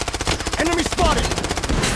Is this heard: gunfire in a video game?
yes